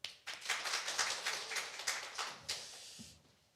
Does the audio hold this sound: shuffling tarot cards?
no